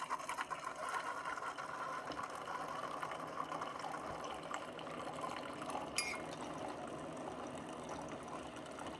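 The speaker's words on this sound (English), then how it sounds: "now all I got to do is press this button. It says it's brewing. And it is quiet. That water pump is pretty quiet." A Keurig B70 Platinum K-Cup coffee maker brewing, its quiet water pump giving a steady low hum with a faint liquid trickle throughout, heard alone.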